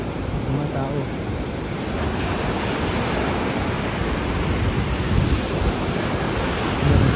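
Continuous roar of ocean surf with waves breaking, and wind buffeting the microphone at times.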